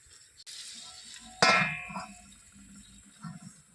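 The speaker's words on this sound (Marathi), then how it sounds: "याच्यावर ना झाकण ठेवून घेऊया" A metal lid is set down on a cooking pot of Malvani-style spicy mutton curry, giving one sharp ringing clang that decays over about half a second, followed by faint kitchen rustle.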